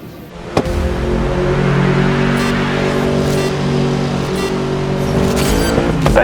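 Race cars in the Grid Legends video game at Fuji Speedway, loud close engine roar holding a steady high pitch with gear shifts and faint passing cars, no talk.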